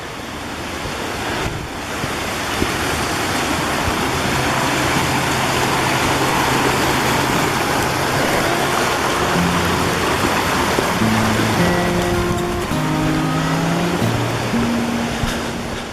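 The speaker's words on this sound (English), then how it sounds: "I'm going to cross the creek again on this set of logs." A mountain creek rushes steadily along the Missouri Gulch Trail at about 10,800 feet, near downed logs used for crossing. The close, continuous roar of flowing water holds without a break, with a few faint whistling tones near the end.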